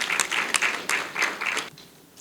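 A crowd claps at the launch of a charity foundation to welcome the Minister for Children, Gender and Social Welfare. The bursts of applause are steady for under two seconds, then fade out.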